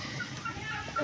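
Desi chickens and a rooster clucking while pecking at feed in a hot-weather backyard coop, a dense scatter of soft overlapping clucks and chirps close by, with no talking.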